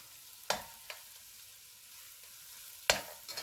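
Tomatoes are stirred into a spicy Surinamese catfish curry frying in a pot: a soft, steady sizzle broken by a few sharp spoon scrapes, heard close and without talk.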